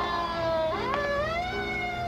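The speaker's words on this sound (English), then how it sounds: "a police car? What's it doing in front of our house?" A police car siren from a Spider-Man film wails in a continuous rising and falling sweep, loud and steady with no other sound over it.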